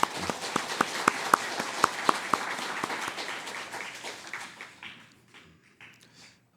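A church congregation applauds the choir and its conductor during Sunday worship, a steady wash of many hands with a few sharper individual claps standing out, fading away near the end.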